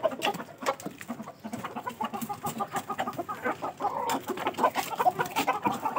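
Chickens in a coop cluck and squawk in a busy, overlapping chorus, close and lively with rapid irregular calls from several birds and no talking.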